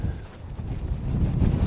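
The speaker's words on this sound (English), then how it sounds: "Super windy on this top" Strong wind buffets the microphone on the summit of Gavel Fell, a steady low roar that rises and falls in gusts throughout, with no voices.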